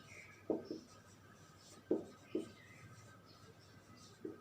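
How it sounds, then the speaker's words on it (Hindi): Handwriting during a chemistry lesson on emulsions: a few soft, scattered scratching strokes of a pen or chalk, quiet and near, with no voice. "यहां लिखेंगे"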